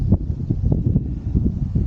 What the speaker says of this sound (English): Pretty windy, so I'm kind of testing out the microphone on the 360.